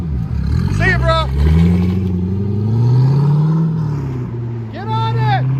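Loud, steady rumble of a Chevy Corvette 6.0L V8 LS engine idling through a straight-pipe exhaust, close by and continuous, with someone talking over it.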